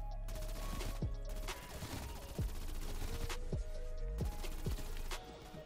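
A PPSh submachine gun fires in a video game zombie event, with repeated bursts of rapid automatic fire and impact crashes over a steady game background, loud and continuous throughout.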